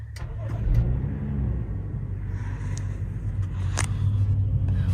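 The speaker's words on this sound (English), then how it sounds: "I'm gonna start my car so y'all can hear it." A car engine, heard from the driver's seat, turns over and settles into a steady, close, low rumble that carries through the whole stretch with no talking.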